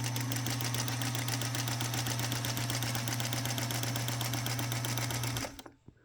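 A Featherweight sewing machine runs steadily through free motion quilting, its fast, even needle chatter and motor hum carrying close and loud for about five seconds before stopping abruptly.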